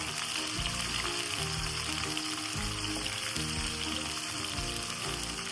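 Sliced okra frying in smoking-hot oil, a steady, close, loud sizzle and crackle throughout, with pulsing low bubbling underneath and no voices.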